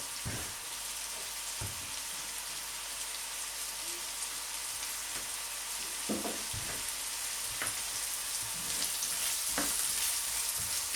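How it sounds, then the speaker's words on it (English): Steady, crackling sizzle of onions frying in a pan, with occasional louder pops and stirring clicks, continuous throughout at a moderate level. "So there's the onion. It's frying away nicely."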